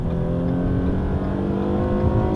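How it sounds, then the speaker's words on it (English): A 2013 Ford Taurus pulls up to highway speed with a steady, moderately loud engine drone and broadband road noise heard from the cabin. "The car gets up to highway speed, no problem."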